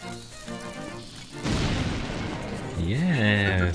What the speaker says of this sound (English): we can use a bomb here